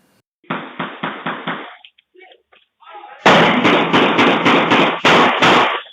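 Two rapid bursts of sharp, loud gunshots at a house party in Goodyear, recorded on security camera: about five quicker, muffled pops first, then a louder series of eight or so shots after a short pause.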